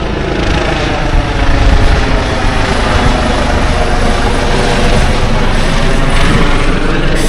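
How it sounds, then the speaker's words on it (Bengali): A helicopter flies overhead at a crowded fairground, its loud continuous rotor thrum dominating the scene with no talk. "হেলিকপ্টার আসছে,"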